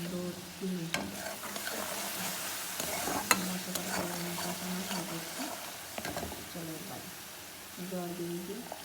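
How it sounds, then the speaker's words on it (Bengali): Spice paste is stirred and sautéed in oil in a pan for a fish curry, giving a steady sizzle with scraping stirring strokes, while someone talks over the cooking. "মশলাটা কষানো হয়ে গেছে"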